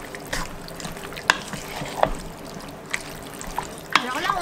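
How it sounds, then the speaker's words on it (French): A spoon stirs chunks of beef through sauce for slow-cooker Korean beef, with soft wet scraping and a few sharp clinks against the pot at irregular moments, close and moderately quiet. "Voilà, et on va venir mélanger correctement la viande"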